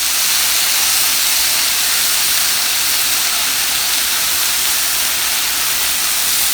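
Turkey bacon sizzles on the grill side of an electric griddle, a steady, loud broadband hiss that runs unbroken throughout with no talk.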